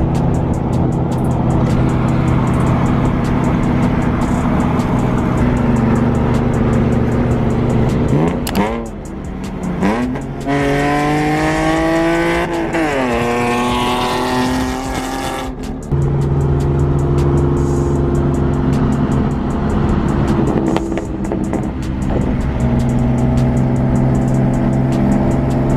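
A Mazdaspeed 3 running without its front bumper holds a loud, steady engine drone heard close up. Midway the engine revs up through rising sweeps before settling back to a constant hum.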